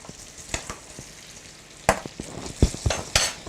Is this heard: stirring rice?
yes